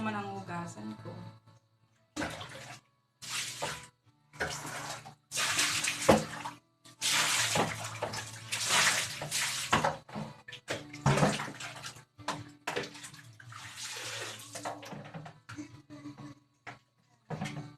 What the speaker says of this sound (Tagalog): And kamay ko naman ang hugasan ko.